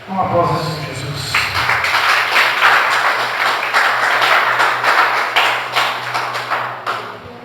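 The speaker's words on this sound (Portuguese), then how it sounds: "Uma aplauso ao Senhor Jesus." Church congregation applauding Jesus during a Portuguese-language Christian sermon, a dense steady wash of clapping lasting several seconds with a low sustained tone and voices faintly underneath.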